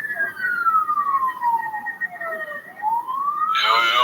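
A wailing siren sweeps steadily downward then rises again, loud and nearby, before a second harsher siren tone cuts in at the end.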